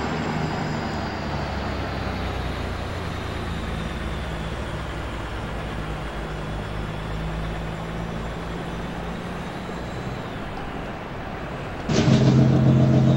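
A heavy truck hauling a long lowboy trailer on a highway in American Truck Simulator produces a steady low engine drone with road rumble and a slowly shifting whine, then a louder, fuller engine tone takes over near the end.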